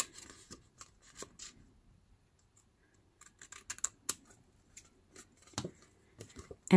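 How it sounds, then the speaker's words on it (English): Scissors snipping the corner off a paper mailing envelope cut from 12x12 paper, a quick cluster of crisp close snips, a quiet pause, then a second burst of short cuts and paper handling. "I'm gonna cut off this double crossed corner like this, right behind those score lines"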